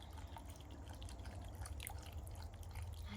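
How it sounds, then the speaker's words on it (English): Water trickles steadily through mossy rocks in a small garden sink water feature driven by a little solar-powered pump, a continuous close dripping and splashing with no voices. "And you can hear the water, it's absolutely lovely."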